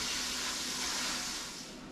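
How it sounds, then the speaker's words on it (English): Ground venison browns in a pan while being stirred, producing a soft, continuous close hiss that fades slightly toward the end. "We're just going to keep mixing it around, stirring it up until it's browned all the way through."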